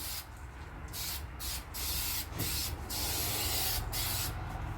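An aerosol spray paint can hisses in a steady spray over Ford F-150 truck trim, several bursts with short breaks between them, close and fairly loud.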